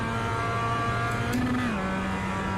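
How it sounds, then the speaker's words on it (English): Race car engine in a racing simulator drones loudly and steadily, its pitch briefly rising and then settling back down midway, with no talking. "My car is too loud."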